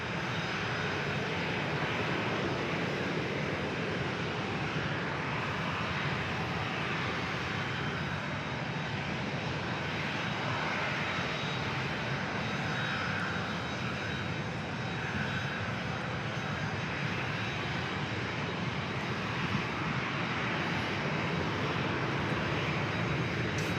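Airliner approaching to land at San Diego airport, a steady loud engine roar that holds for over twenty seconds without a break and with no voices over it.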